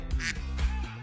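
Duck quacks, a couple of short bursts, heard near and fairly loud over a steady low background hum.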